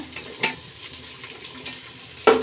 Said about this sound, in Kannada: ಈಗ ಈರುಳ್ಳಿನ ಚೆನ್ನಾಗಿ ಫ್ರೈ ಮಾಡ್ಕೊಳ್ಳೋಣ ಎಣ್ಣೆಲೆಲ್ಲ ಫ್ರೈ ಆಗಲಿ